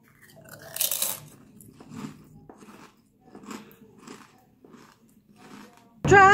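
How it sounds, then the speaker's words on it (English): A sharp, close crunch as someone bites into a Ruffles Double Crunch hot wing potato chip, followed by several quieter chewing crunches, then a sudden loud tone at the very end. "Watch and wait and listen to this crunch here."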